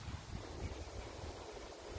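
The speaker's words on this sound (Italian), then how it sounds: "Sentite il vento," Wind blowing outdoors beside the Vettabbia in Milan on a July day, a steady low rushing and buffeting across the whole stretch, fairly loud and constant with no voices.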